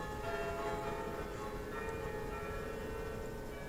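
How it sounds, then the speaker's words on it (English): Church bells ring continuously with sustained, layered tones forming a steady wash throughout, fairly loud and with no talking. "Can't you just switch off the bells?"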